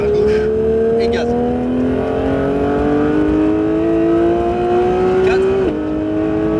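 A Porsche 911 GT3 accelerates hard on the Mireval racing circuit, its engine note climbing steadily through the revs from inside the car, with a brief dip at a gear change near the end and a spoken instructor voice over it.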